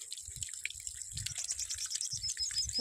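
Water pours and splashes at a farm in an uneven trickling patter, fairly close and quiet, with faint birdsong above.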